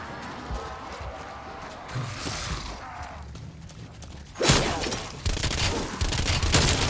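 Gunfire and bullet impacts in the video game Call of Duty: Black Ops Cold War sound as a dense, noisy burst of rapid shots that grows louder partway through, with clattering mechanical noise and little or no talking.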